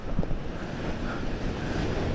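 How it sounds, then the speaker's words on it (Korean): Strong ocean waves surging against a seaside breakwater, heard as a steady, loud broadband wash with gusting wind buffeting the microphone, no voices. "와 파도 너무 세"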